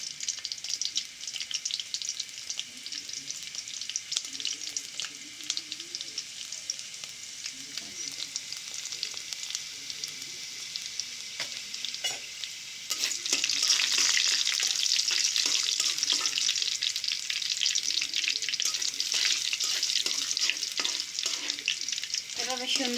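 Garlic and dried chillies fry in hot oil with a bright, steady sizzle that grows louder partway through, with soft stirring scrapes and no talking.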